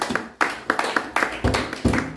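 A church congregation claps for the Lord in quick, steady, close rhythmic beats that ring out strongly for a couple of seconds.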